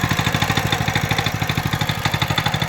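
Zipper concrete power trowel petrol engine idling after a choke start: a fast, even putter of firing pulses with a slight mechanical clatter, close and fairly loud, running steadily alone.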